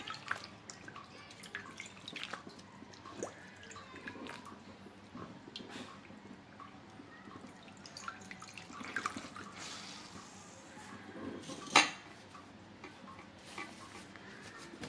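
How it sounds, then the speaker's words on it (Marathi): A water-soaked cotton cloth is wrung out by hand over a rolling board in a home kitchen; faint dripping and soft squeezing continue quietly, with one brief louder splash of water near the end. "हे कॉटनचं कापड आपण पाण्यात भिजवून थोडंसं पिळून घ्यायचंय।"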